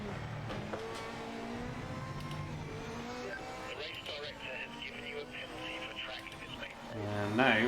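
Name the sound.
GT3 race car driving in Project Motor Racing video game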